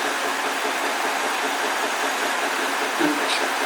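A 1980 Ford 1100 compact tractor runs steadily at a vintage machinery show outdoors, a continuous broadband engine drone with a faint brief voice near the end.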